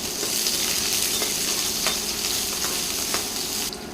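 Chopped large onion and a handful of small onions fry in a pan for vegetable salna, giving a loud, continuous sizzle close by with faint scraping taps of stirring.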